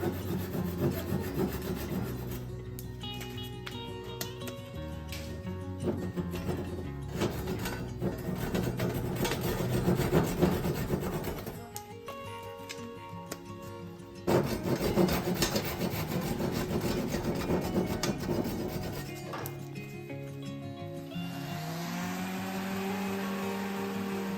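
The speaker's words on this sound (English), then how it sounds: "put the hole over the plug and saw it off" A hand saw rasps back and forth in a steady rhythm of close, scratchy strokes, cutting wooden plugs flush on a workbench top, pausing briefly before resuming, then ending.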